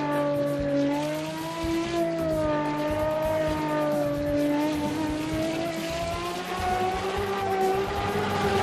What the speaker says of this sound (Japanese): ああ、低排気音ですね。